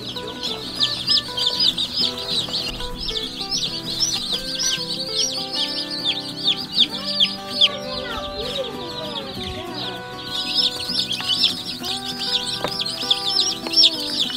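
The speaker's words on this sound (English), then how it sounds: "here are the laying hens out enjoying some free-ranging time" A flock of free-ranging laying hens on pasture clucking steadily and overlapping, with busy chatter and high bird chirps around them throughout.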